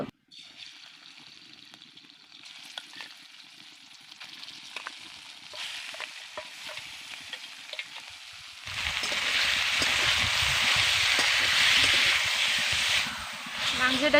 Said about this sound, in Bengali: কোড়ার মধ্যে আমি তেল দিয়ে দিচ্ছি এবার আমি দিয়ে দিচ্ছি ম্যারিনেট করা মাংস